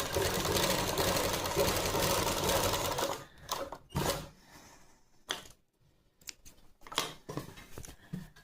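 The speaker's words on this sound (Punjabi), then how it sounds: "ਇਦਾਂ ਆਪਾਂ ਸਲਾਈ ਲਗਾਵਾਂਗੇ ਪਹਿਲਾਂ ਆਪਾਂ ਤੀਰੇ ਵਾਲੀ ਸਾਈਡ ਸਲਾਈ ਲਗਾ ਲਾਂਗੇ" A sewing machine stitches lining fabric onto shirt fabric: a steady, close whirring run for about three seconds, then several short bursts of stitching with pauses between them.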